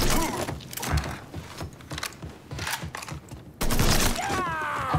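Rapid gunfire bursts from the video game Mafia 3 crackle in uneven clusters, ending in a louder sustained stretch of shooting with game effects mixed in.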